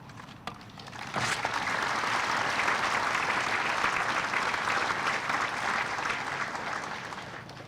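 Audience applause at the ribbon cutting ceremony for PNNL's Grid Storage Launchpad, a few isolated claps before a full, steady round of clapping that holds and then begins to thin toward the end.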